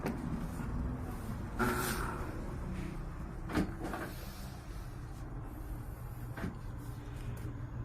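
A hatch on a fishing boat fitted with a Mitsubishi 6D22 engine is opened, giving several hollow knocks and scraping thuds over steady outdoor background noise.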